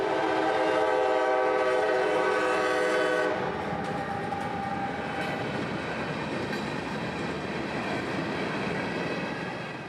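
A CSX freight train rolls past at speed, its sustained horn blaring loud and close for several seconds before cutting off, leaving the broad rumble and rush of the passing railcars.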